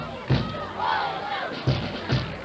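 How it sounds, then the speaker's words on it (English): A crowd at a rainy 1987 college football game between Westmar and Buena Vista roars and chants in the distance, with a few thuds punctuating the noise while a commentator speaks over it. "So the crowd is definitely into this game,"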